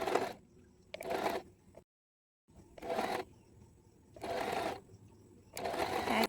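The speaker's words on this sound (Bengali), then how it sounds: "এরপর ফ্রন্ট পার্টের টপ ও বটম একসাথে সেলাই করে নেব।" Sewing machine stitching the top and bottom of the front panel of an Alia cut top together, running in four short bursts of rapid whirring with quiet pauses between them.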